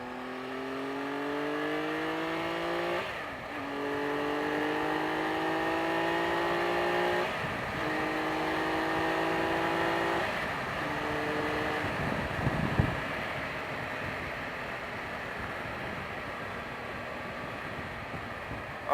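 Engine of a 2018 Triumph Tiger 1200 XCA motorcycle on a test ride in third gear, a steady droning hum that rises in pitch through several gear changes under continuous wind rush, fairly faint and without talk.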